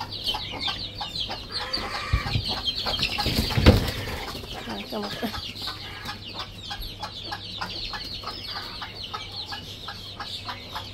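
Small hens in a coop cluck and cackle in a busy stream as they try to get out, with a burst of wing flapping partway through, heard up close.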